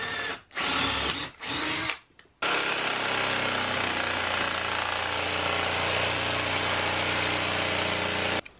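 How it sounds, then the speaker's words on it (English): Jigsaw cutting a mounting hole for a solar attic fan, a few short starts and stops, then a loud, continuous buzzing cut running close and steady to the end. "So I'm gonna cut this out with a jigsaw real quick."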